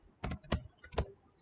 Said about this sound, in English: type text